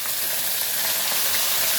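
Pork leg (pata) frying with sautéed onions in a pan, a steady close sizzle with bright hiss and faint crackles running evenly throughout, no voices.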